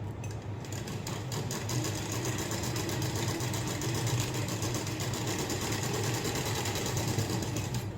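A sewing machine stitching a blouse, running at a constant, fast, rhythmic whir with no pauses, close and fairly loud.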